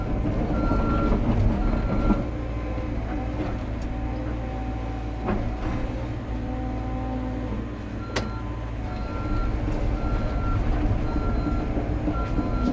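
A trackhoe excavator idles and works at a tree on a farm, with a steady low diesel rumble, sustained tonal engine whine and a few sharp cracks and knocks from the tree being pushed over.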